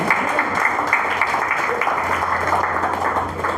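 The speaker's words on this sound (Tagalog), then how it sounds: "Malakas nga po na palakpak para sa Panginoon." A church congregation claps steadily in a broad, continuous wash of applause, moderately loud and even, with a faint voice underneath.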